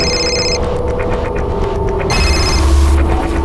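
Telephone bell ringing indoors in a police-station crime drama, two bursts of ringing separated by a short gap over a low room rumble.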